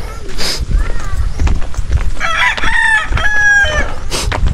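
Chickens at a poultry farm, with a rooster crowing clearly up close amid clucking hens and scattered rustling of movement.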